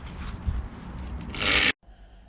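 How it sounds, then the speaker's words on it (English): An angle grinder cuts the decat pipe on a Honda CBR 600RR motorcycle exhaust, a close, harsh rasping that swells into a loud bright burst and then stops abruptly. "Grinding noises."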